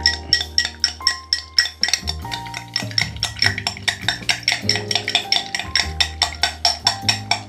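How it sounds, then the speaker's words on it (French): A spoon stirring ice in a cocktail glass, producing rapid, bright clinking and rattling in a steady rhythm, close and fairly loud, with no talking. "Et là vous venez mélanger un petit peu"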